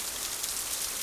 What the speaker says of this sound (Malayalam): മഴ മാറിയില്ല പോണ്ടാ